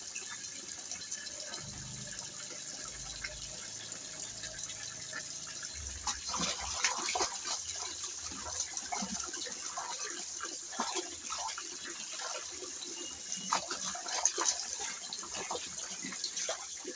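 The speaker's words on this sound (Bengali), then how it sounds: "দেখুন আমাদের চাপা করে জল পড়ে, গঙ্গার মতো জল হয়ে যাচ্ছে।" Water pours and flows steadily near a garden, a continuous hissing gush with faint splashes, fairly quiet and close, with no talking.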